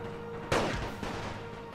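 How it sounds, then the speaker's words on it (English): Gunfire from Serbian infantry units in a Total War game set in the Great War: one sudden loud burst with a short crackling tail, then a quieter follow-up report, over a steady background battle din. "They've actually made quite a headway shooting at this unit on the flank"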